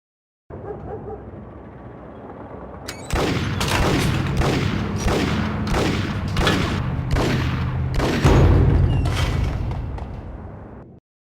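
Shootout in a Max Payne cutscene: after a quiet start, rapid rhythmic gunshot bursts repeat loudly for about eight seconds, close and punchy, with no talk over them.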